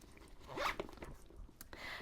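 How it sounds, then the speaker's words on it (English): The zipper on the zippered pocket of a vintage Gucci Abbey hobo bag is pulled along in a quick, close rasping sweep, followed by a few softer fabric and zipper rustles. "Does have one zippered pocket right here."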